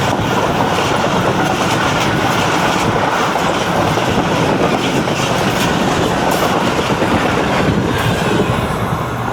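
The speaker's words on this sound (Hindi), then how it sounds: "ये है 18 डाउन मिलत एक्सप्रेस, और 100 किलोमीटर पर आवर की स्पीड पे जंगशाही स्टेशन से गुज़र रही है।" Millat Express, 18 Down, a passenger express from Lala Musa bound for Karachi, passes Jung Shahi station at about 100 km/h with a loud, continuous roar and rapid clickety-clack of wheels, close by throughout, with no voices.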